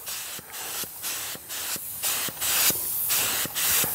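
Aerosol spray can laying a light glue coat on a foggy car headlight lens outdoors, a series of short hissing bursts with brief pauses between them, close and steady, no voices.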